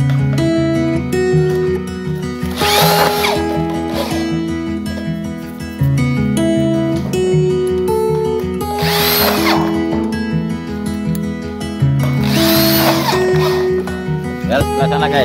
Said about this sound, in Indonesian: Baru kita baut.